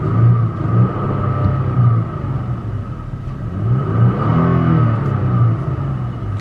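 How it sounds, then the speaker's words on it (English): A 2020 Toyota Tacoma fitted with a K&N cold air intake blips its engine in neutral, several rising and falling revs over a steady idle rumble, close and moderately loud. "I'm going to give you a few little neutral revs here before I go ahead and take off"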